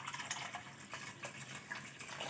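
Water poured from a glass into a cooking pan for Maggi noodles, a steady close splashing trickle that runs without a break for a couple of seconds.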